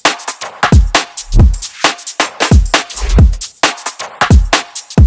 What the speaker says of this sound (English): I'm grouping all that together on a drum group where the drums sound like this